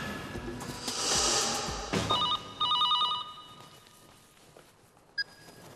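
A telephone rings in short repeated electronic trills in an office setting on a crime show, fairly loud after a burst of background noise, with a brief beep near the end.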